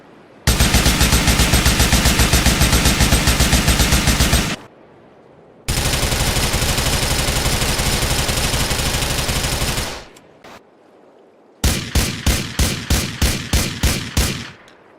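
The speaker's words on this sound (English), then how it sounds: "The different classes of guns like pistols and assault rifles all feel very different and feel fun to shoot." Video game gunfire from pistols and assault rifles rattles loud and close: two long sustained automatic bursts separated by a short pause, then a quicker run of distinct single or short-burst shots.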